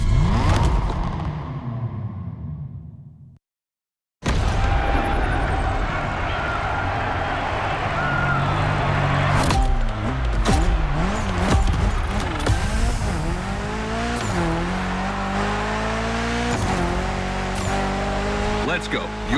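A Mitsubishi Evo 9 tearing through a gymkhana course in The Crew Motorfest revs hard, its engine note climbing and dropping amid tire squeal. The sound is loud and close, with one short gap of silence early on.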